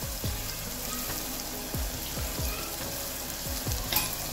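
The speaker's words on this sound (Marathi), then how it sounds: "त्यात आपण आता थोडा कढीपत्ता घालू। आता याला छान तळून घेऊ।" Curry leaves and turmeric fry in hot oil with a continuous crackling hiss, punctuated by repeated soft low pops and spits at irregular intervals.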